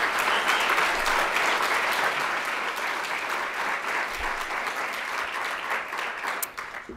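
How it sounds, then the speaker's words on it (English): Sustained audience applause at a talk on digital storytelling, a dense even roar of many hands clapping that holds steady before tapering off at the close. "Everyone could just give him a round of applause for such a wonderful weekend."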